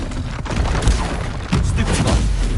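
A Confringo fire spell explodes in a Hogwarts video game, a loud, rumbling blast with crackling debris, followed by a second booming burst about halfway through.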